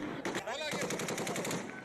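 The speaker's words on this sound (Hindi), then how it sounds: "गोलीबारी की आवाज आप साफ सुन पा रहे हैं।" Rapid bursts of gunfire at a vote counting centre in North Waziristan, Pakistan, crackling in a steady, dense rhythm across the whole moment with loud, reverberant shots.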